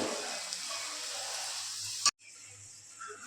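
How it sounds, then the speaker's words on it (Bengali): Luchi frying in hot oil in a kadai gives a steady, bright sizzle and hiss. It cuts off abruptly, then a fainter hiss follows. "এবার আমি একটা একটা করে সব লুচি ভেজে নেব।"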